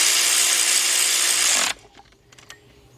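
A ratchet turning a 13mm deep socket on a 3/8 drive extension tightens a nut on a BMW alternator bracket, whirring loudly and steadily up close, then stopping abruptly and leaving a few faint clicks.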